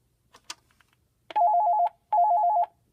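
A Panasonic TA824 hybrid PBX telephone rings in two clear electronic warbling bursts, each about half a second long, following a few faint clicks; no one speaks.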